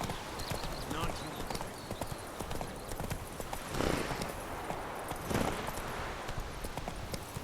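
Roach, the horse in The Witcher 3, trots with a quick, even clip-clop of hooves that carries on throughout, and a voice speaks over the hoofbeats.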